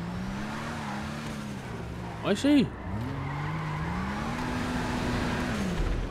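A Vulcar Nebula Turbo car engine in a video game drones at moderate volume, rising in pitch as it accelerates, with a brief squealing swell partway through, while someone speaks over it.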